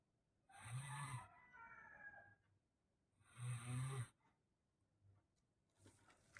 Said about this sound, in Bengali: এদিকে বরমশায় নাক ডাকছে